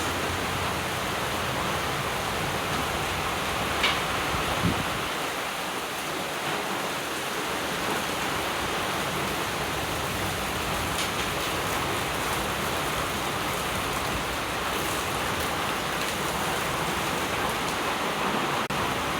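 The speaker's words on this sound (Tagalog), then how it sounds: "Way too windy." Strong wind roars in a steady, loud broadband rush across a flooded house and yard, with no breaks and no speech over it.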